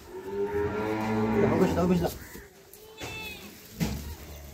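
A dairy cow gives a long, loud, close moo in a village courtyard, followed by quieter rustling and a short second low call near the end.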